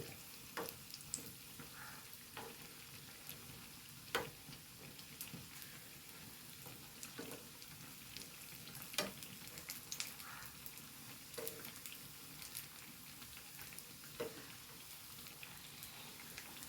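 Jackfruit rind fritters (bajji) deep-frying in hot oil give a faint, continuous bubbling hiss dotted with occasional small pops and ticks, steady throughout with no voices.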